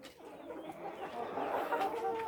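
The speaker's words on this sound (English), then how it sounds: "Look at this chicken here." A flock of year-old debeaked chickens clucks continuously at close range, a dense overlapping chorus of calls that swells slightly louder toward the end.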